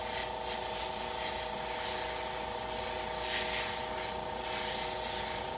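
A paint airbrush sprays steadily through a stencil onto an old shirt, a close continuous airy hiss with a faint motor hum beneath and small surges in pressure.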